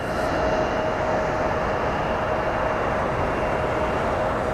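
A United Airlines airliner passes at Columbus John Glenn International Airport, a loud steady jet roar with a broad rushing hiss and a faint high whine holding through the whole span, no voices.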